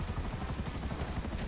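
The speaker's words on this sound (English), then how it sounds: "Dude, the chopper's gonna go down." A helicopter in GTA 5 Online, a continuous chopping rotor drone with fast rhythmic pulses, loud and close, with no talking.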